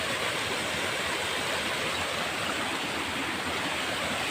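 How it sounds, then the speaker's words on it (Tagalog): Continuous roaring rush of fast-moving floodwater during Typhoon Kristine in 2024, broad and steady like a torrent, filling the whole clip without pauses or voices. "So ang lakas kasi ng tubig."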